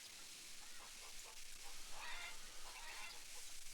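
Chickens in a pen in the Farmers Dynasty farming game, soft clucking and fowl chatter at low level over a faint hiss, no talk.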